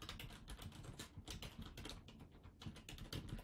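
Rapid typing on a computer keyboard while a command is entered to set up an Iron Fish wallet, a close, quiet clatter of keystrokes in quick irregular bursts with a brief pause midway.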